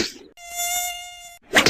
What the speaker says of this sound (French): c'est pour se défouler contre les moustiques